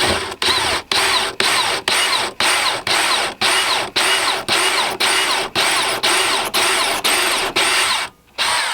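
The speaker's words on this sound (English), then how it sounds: "We're going to drill out for 1/4 inch to put our stick in." A power drill whines in repeated short bursts while drilling a 1/4 inch hole, about a dozen rapid on-off pulses evenly spaced, loud and close, ending with a brief pause and restart.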